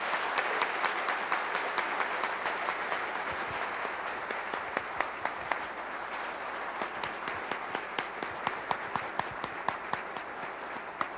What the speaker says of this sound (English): A round of applause for the recovery group.